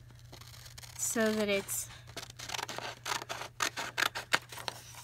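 Scissors snip through a paper lace edge from a digital kit for a spring blossom junk journal, a run of short crisp cuts repeating near the end, with someone talking over the start.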